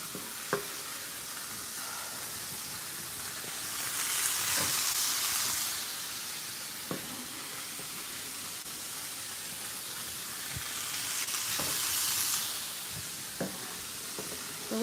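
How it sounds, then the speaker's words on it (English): Vegan fried rice sizzles as it is sautéed in a pan. The steady frying hiss swells loudly twice, with scattered sharp clicks of stirring in between and no talking. "So we're just sauteing this up."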